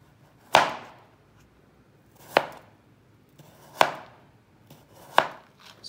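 A knife finely chopping a peeled potato on a board, four distinct sharp chops spaced about a second and a half apart, close and clear with quiet gaps between.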